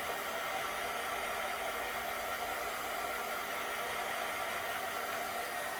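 A small dryer machine on its low setting blows air to dry paint on a Super Mario cake topper, a steady, even whooshing hiss that holds constant throughout, fairly quiet and with no talking.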